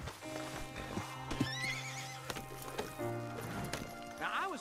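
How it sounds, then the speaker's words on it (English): A horse in Red Dead Redemption 2 clip-clops along with steady hoofbeats and lets out a clear whinny, all close and prominent, while voices talk over it. "Don't you know how to ride a horse?"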